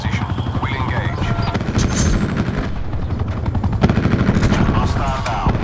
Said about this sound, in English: Attack chopper available for tasking.